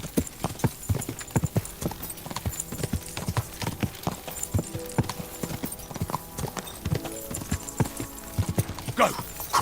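Horse hooves clip-clop at a steady gallop across the ground in Kingdom Come: Deliverance II, with a rapid repeating beat of dense strikes, game music underneath and a brief whinny near the end.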